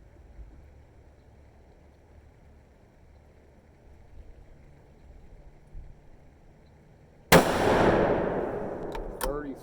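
After quiet outdoor ambience, a Savage 110 Predator Apex rifle in .243 Win fires one loud, sharp shot. The load is a 70 grain Nosler ballistic tip over 44 grains of Reloader 16 with a CCI 200 primer, and the blast rolls into a long fading echo.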